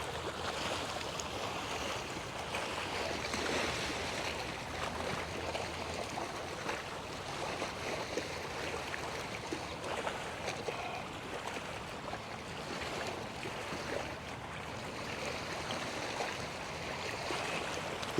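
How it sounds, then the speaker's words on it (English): Water at Causeway Park West, Stuart, laps and washes continuously, a soft broadband rush of small waves with some wind, moderately quiet and without speech. "The sound of the waves, oh, it's a wonderful, soothing, beautiful sound."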